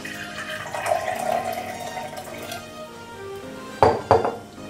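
Water poured into a transparent container for a kitchen density experiment with oil and food coloring: a steady splashing trickle, then two sharp knocks of the vessel near the end, with no talking.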